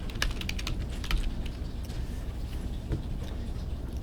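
Keys clatter on a computer keyboard while a spreadsheet entry is typed, a steady run of light, close taps with a few brief bursts and no talking.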